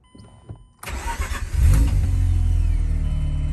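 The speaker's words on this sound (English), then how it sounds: "my car starts up no problem on the first try" A Mazda RX8 rotary engine is hot-started after a short quiet pause with faint clicks. The starter catches at once and the engine settles into a loud, steady, close idle, with no talking.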